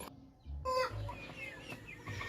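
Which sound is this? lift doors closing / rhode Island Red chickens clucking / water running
rhode Island Red chickens clucking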